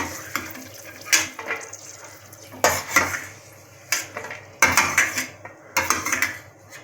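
Browned fried food is lifted from a pan onto a plate in a home kitchen, with metal utensils clanking and scraping against cookware in repeated close bursts over a low frying sizzle.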